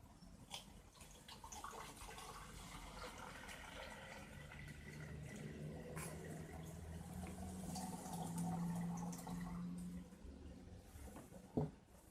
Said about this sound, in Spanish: A continuación se vierte el agua helada en el recipiente grande.